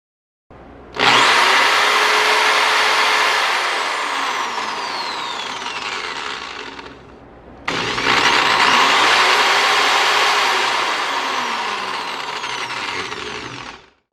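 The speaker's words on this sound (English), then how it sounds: "Now we can finally plug it in and test it out." An electric drill, just repaired with a replacement power cord, whirs loudly at high speed in two long runs, stopping briefly between them before spinning up again.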